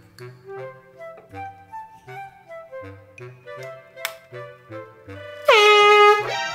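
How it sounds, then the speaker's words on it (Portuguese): A loud, sustained air horn blast is set off as a 6 a.m. wake-up prank in a bedroom. It bursts in abruptly after a quiet stretch of tinkly ticking background music and holds steady for about a second before cutting off. "Isso daqui, uma buzina."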